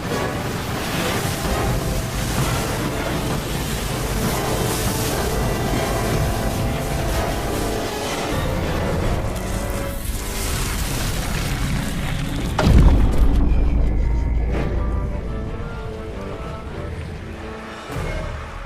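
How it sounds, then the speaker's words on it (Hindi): Sea waves in a storm crash against a temple as a steady, loud roaring wash, with a heavy booming impact partway through followed by churning surge, and no voices. "समुद्र की लहरों ने मंदिर को तहस नहस कर दिया है महाराज।"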